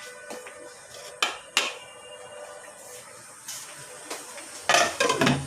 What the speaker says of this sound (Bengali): ঢাকনাটা দিয়ে দিই।